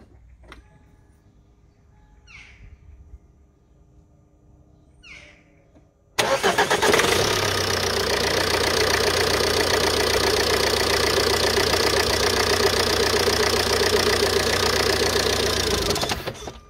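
A Ford Mondeo Mk4 1.8 TDCi diesel engine cranks and fires after a few quiet clicks, then settles into a loud, steady, clattering idle that runs on for about ten seconds before stopping.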